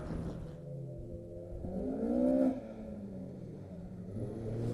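Rally cars racing at Snetterton circuit, including a tight bunch with a Peugeot 205 and Honda Civic EP3 Type R, give a continuous low engine rumble that swells into a brief revving rise before settling back.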